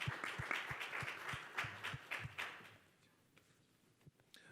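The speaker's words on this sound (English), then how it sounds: "round of applause." A round of applause from the audience at a fintech startup event: scattered claps at moderate distance that thin out and fade partway through, leaving a few isolated claps near the end.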